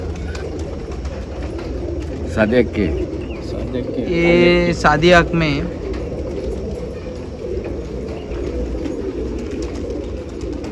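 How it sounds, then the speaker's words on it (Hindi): Kalpat pigeons, an old breed from Nashik, coo in short rhythmic bursts close by, the clearest calls coming in the middle, while someone talks over a constant background hum. "कलपट कबूतर बोलते हैं यहाँ पे।"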